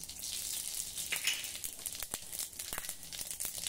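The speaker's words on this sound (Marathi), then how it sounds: "तेल गरम झालं की त्यामध्ये जिरं मोहरी घालूया।" Cumin and mustard seeds sizzling in hot oil, a steady bright crackle with scattered sharp pops, close but fairly quiet, with no talking.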